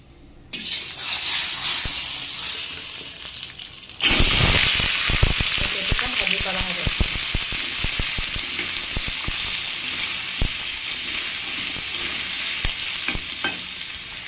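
Cut papaya and two whole green chillies hit hot oil tempered with mustard seeds, and a loud, steady sizzle erupts, then keeps crackling with stirring scrapes and spits close by.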